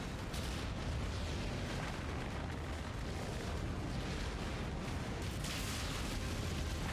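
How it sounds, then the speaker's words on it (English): Incoming missiles explode during mech combat in Mechwarrior 5, a dense rumbling barrage of booms and bursts that stays loud and continuous throughout. "Incoming missile."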